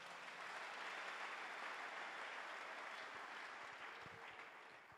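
A church congregation applauding steadily at a sermon, a dense wash of clapping that holds level for several seconds before easing slightly, heard faint and somewhat distant with no voices over it.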